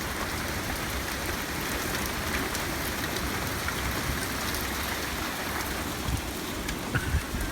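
Rain falls steadily, a dense, even hiss of drops on surfaces that stays close and unbroken throughout, with a few slightly louder drips near the end.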